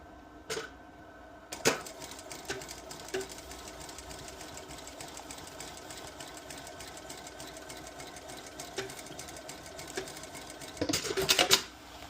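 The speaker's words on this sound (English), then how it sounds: "Now the cover stitch." A cover stitch machine sews a bucket hat in one long steady run, humming and ticking evenly up close, with brief clatters at the start and the end.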